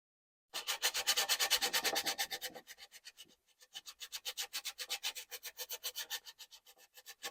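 Sandpaper rubbed by hand over a wooden mirror frame in quick, rhythmic back-and-forth strokes, a dry scratchy swish repeating steadily, briefly pausing midway before resuming at the same even pace, close and with no talk.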